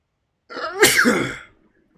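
A single close sneeze, a sharp burst followed by a short trailing exhale, lasting about one second and heard alone against silence.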